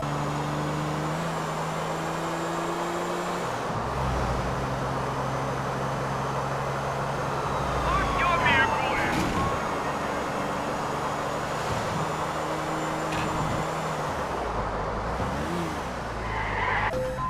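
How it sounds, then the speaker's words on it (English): A Vapid Huntley Sport SUV in a Liberty City video game drives with a steady engine drone and a small turbo whine, with tire squeals and skids rising briefly in the middle. "you can hear a small turbo whine"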